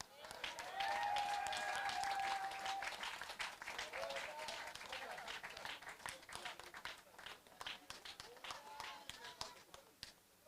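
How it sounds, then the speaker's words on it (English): Audience applause for a minister at an outdoor cultural festival poetry event in Nevis, a steady crowd of clapping hands that swells then gradually thins out, heard at a distance with no talking over it. "give the minister another round of applause"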